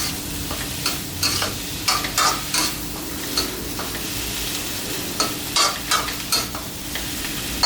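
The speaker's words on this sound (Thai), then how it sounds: "ก็ผัดให้เข้ากัน" Fermented pork sausage is stir-fried with egg, chili and spring onion. Close, loud spatula scrapes and clacks against the pan come in irregular bursts over a continuous sizzle, and no one speaks.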